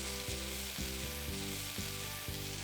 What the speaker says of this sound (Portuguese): e agora nós vamos misturando.